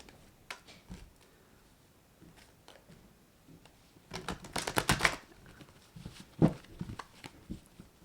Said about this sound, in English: I'm going to start shuffling now